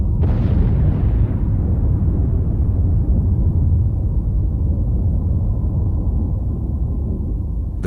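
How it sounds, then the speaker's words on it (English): A large explosion set off to blow up an aircraft in a bomb test by crash investigators, a sudden loud blast that rolls into a long, heavy, continuous rumble fading slowly. "investigators decided to blow up some aircraft"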